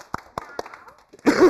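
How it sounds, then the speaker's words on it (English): A classroom audience claps for a group of performers. A few single claps come first, then a short burst of applause closes the moment. "Give them a clap."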